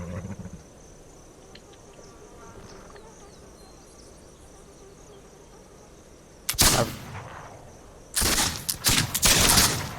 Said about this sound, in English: there's definitely shooting at somebody